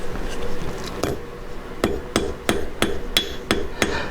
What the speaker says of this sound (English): Now I can take my forging hammer and just forge it with the flat face